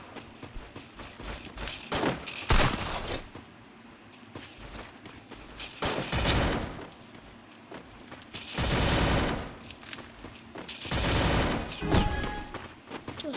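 Gunfire with several loud broadband bursts of shots, each lasting about a second, separated by quieter stretches of rustling background noise.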